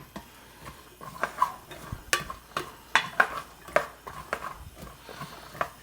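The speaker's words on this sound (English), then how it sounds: "I'll saute the vegetables until the onions become clear or translucent" Vegetables and onions sauteing in a pan on a stove over medium-high heat, with a faint sizzle beneath a run of distinct spatula clicks and scrapes, close and without talk.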